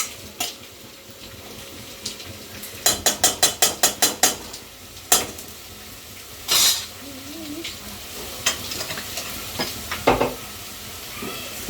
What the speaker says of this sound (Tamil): சாம்பாரை ஒரு கிண்டே கிண்டி விட்டுக்கணும்